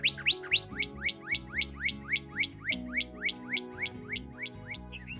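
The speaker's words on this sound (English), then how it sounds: "What are you saying, bird?" Outdoors near Idaho Falls, a bird sings a steady, fast string of repeated whistled chirps against a low rumbling background, with no talking.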